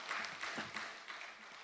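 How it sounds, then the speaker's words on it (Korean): A church congregation applauds during a Thursday worship service, a steady wash of clapping from many hands, fairly soft and continuous. "하나님께 감사의 박수 드리겠습니다"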